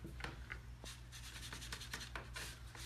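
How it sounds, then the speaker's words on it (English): Dry-brushed paint being rubbed off faux salvage marquee letters, a steady dry scrubbing and rasping with short repeated strokes, close up against a low constant background hum. "So you can see how just the dry brush, rubbing it off."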